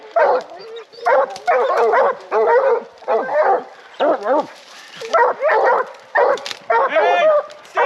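Bear hounds bark and yip in rapid, excited bursts, several dogs close by in a steady back-and-forth chorus with short whimpers mixed in.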